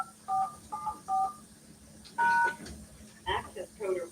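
Telephone keypad tones ring out while an access code is entered during a city commission meeting, four crisp evenly spaced beeps, then a longer tone and several more quick presses, with a voice in the background.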